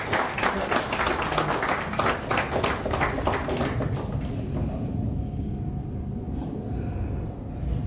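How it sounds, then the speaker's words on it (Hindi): An audience applauds at a tourism association launch event in Andaman, with dense, sustained clapping that thins out after about four seconds into a quieter room. "तालियों की गड़गड़ाहट रुकने नहीं चाहिए"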